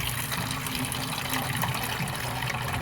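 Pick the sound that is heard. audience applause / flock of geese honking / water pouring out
water pouring out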